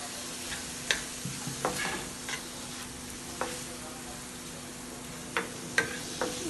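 Farfalle pasta is stirred in white sauce with chicken broth over medium heat, making a soft, steady bubbling hiss with scattered light clicks of a spoon against the pot, fairly quiet and close, without speech.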